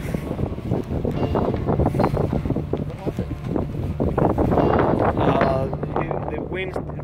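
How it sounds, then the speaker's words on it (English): Strong desert wind gusts across a trashed campsite at Anza Borrego, roaring and buffeting the microphone in loud continuous waves while voices are faintly heard underneath. "The wind blowing from the back, it's pushing it this way."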